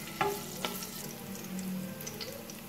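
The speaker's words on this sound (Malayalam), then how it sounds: "നെയ്യ് തിളച്ചിട്ടുണ്ട്, അതിലേക്ക് നമുക്ക് കുറച്ച് ഇഞ്ചി ഇട്ട് കൊടുക്കാം." Ginger sizzles in hot boiling ghee, a faint, steady frying crackle with a few brief clinks of a utensil stirring the pan, with no talking.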